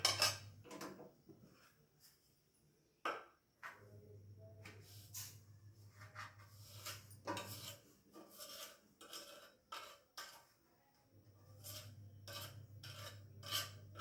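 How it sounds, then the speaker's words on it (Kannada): Kitchen clatter of a plate being set down, with several sharp knocks and scrapes of dishes spread over a low steady hum, close and fairly quiet. "ಇವಾಗ ಒಂದು ಪ್ಲೇಟ್ ಹಾಕ್ಕೊಳ್ತಾ ಇದ್ದೀನಿ."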